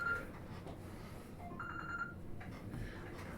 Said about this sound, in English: there's my phone going